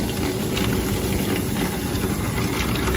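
A flexible 9-metre auger conveyor, driven by a 380-volt 2.2 kW motor through an aluminium gearbox, loads dry soybeans with a steady, continuous mechanical drone heard up close.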